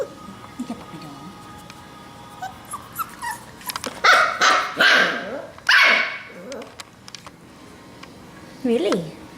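A Rottweiler rescue puppy barks and yips in short, close bursts, with whimpering sounds, while a person talks to it nearby.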